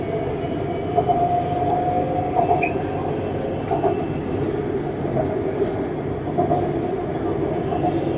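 A BTS Skytrain car travels through Bangkok with a continuous rolling rumble, faint wheel squeals and light rhythmic clatter, heard from inside the train.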